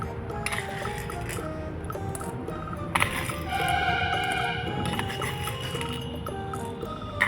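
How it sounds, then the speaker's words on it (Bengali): Popcorn kernels spooned into a pot in a toy mini kitchen, with small clinks and rattles of the spoon against the little vessel and a soft pouring rustle in short bursts. "তো আমি প্রথমে এখান দিয়ে 2 চামচ পপকর্ন নিয়ে নেব।"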